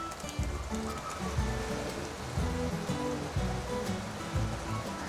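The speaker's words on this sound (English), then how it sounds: "I'm going to add more hot water." Hot water pours steadily into a pot of barramundi fish head curry on the stove, a continuous close splashing and gurgling wash that runs unbroken throughout.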